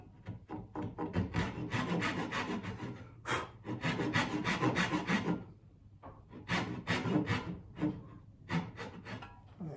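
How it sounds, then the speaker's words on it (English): A hand saw cuts dovetails in very hard wood for a lipped drawer, with rapid rasping strokes in close, steady bursts that pause briefly before starting again. "So I'm just going to saw."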